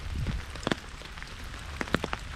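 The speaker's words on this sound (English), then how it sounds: "it's a pain in the ass to film in the rain" Rain falling in a Louisiana swamp during a backpacking trip: steady patter on surfaces with scattered louder drops striking close by, and no voices.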